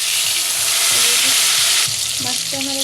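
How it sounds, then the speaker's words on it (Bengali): Fish frying in oil in a pan, a loud, dense, continuous sizzle and hiss with some scraping and clinking of a utensil toward the end. "মাছটা আমার একটু ভাজা হয়ে গেছে, আর একটু ভেজে নেবো আমি"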